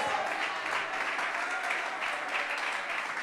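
A church congregation applauds during a sermon on praying in tongues, a soft, even patter of many hands clapping with no pauses, heard from a distance.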